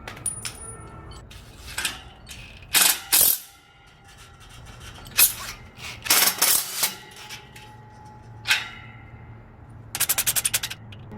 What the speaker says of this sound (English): Now let's go ahead and screw this in.